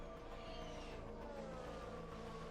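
F1 race cars overtake one another in a racing video game, a steady layered engine whine running throughout, fairly quiet, with no talking.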